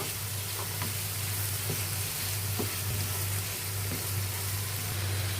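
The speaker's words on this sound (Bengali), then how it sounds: "চিংড়ি মাছ এখানে আড়াইশো গ্রাম এরপরে একটু কষিয়ে নিব" Prawns sautéing in a pan, a constant close crackling sizzle with occasional stirring clicks, even and loud throughout, no voices.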